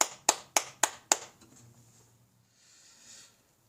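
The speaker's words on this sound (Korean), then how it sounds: "우리 함께 영광의 박수 올려드리겠습니다" A few members of a high school church youth group clap five times in sharp, evenly spaced claps, then stop, leaving a quiet room with faint murmuring.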